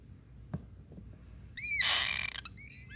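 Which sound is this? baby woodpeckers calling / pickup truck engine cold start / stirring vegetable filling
baby woodpeckers calling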